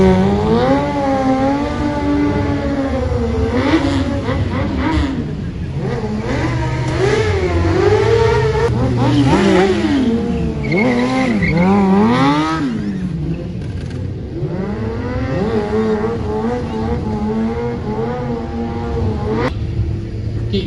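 A stunt motorcycle at a classic custom motorcycle show revs continuously while warming its brakes and tyres, its engine note rising and falling in loud, close sweeps with no break.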